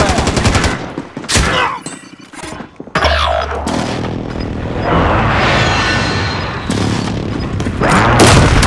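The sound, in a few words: precision airstrike explosions in a video game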